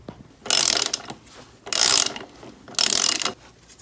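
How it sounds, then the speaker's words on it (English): A socket wrench ratchet tightens the front axle of a Yamaha XSR700 motorcycle, three loud close bursts of rapid clicking pawl teeth, each lasting about half a second, with quiet gaps between strokes. "Using a socket wrench with one hand is stupid"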